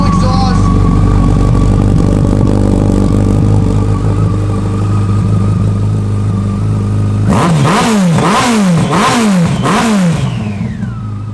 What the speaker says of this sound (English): Sounds so good, full exhaust.